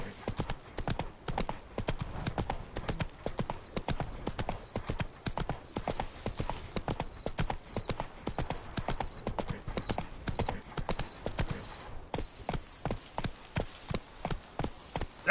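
Roach the horse gallops in The Witcher 3, hooves pounding in a fast, steady clip-clop rhythm for the whole stretch, close and continuous, with a faint repeated chiming tone above it for a few seconds.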